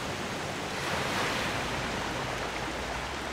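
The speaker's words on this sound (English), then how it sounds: "Let's just hop into the rushing water of a waterfall." Steady, dense rush of a video game waterfall, a continuous broadband roar that stays loud and even throughout with no voices, in The Legend of Zelda: Twilight Princess.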